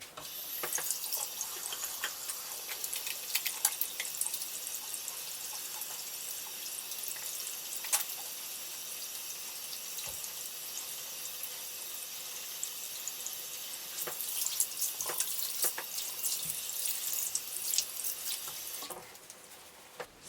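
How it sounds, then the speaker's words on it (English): Tap water runs steadily into a sink while hands are washed, a close, continuous bright hiss with small splashing shifts in texture, cutting off just before the end. "So let's go and wash our hands while we let our plates dry."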